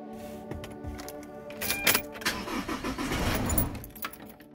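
A car starts up with clicks and a key rattle, then the engine rumbles and builds as it pulls away, close and moderately loud with no talking.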